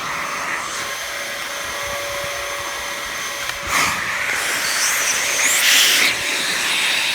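A Dyson DC07 upright vacuum cleaner runs steadily and loudly with a constant airy motor whine and hiss, a short thump partway through and surging airflow near the end.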